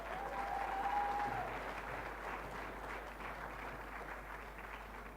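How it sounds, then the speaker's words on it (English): An awards audience applauds a para-athlete javelin record holder, a steady, fairly distant wash of clapping that rises early and then slowly tapers off. "A big round of applause,"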